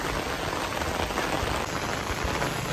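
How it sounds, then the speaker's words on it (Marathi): Heavy, continuous rain pours down steadily, a dense unbroken hiss of drops hitting surfaces close by with no voices. "बघा पाऊस."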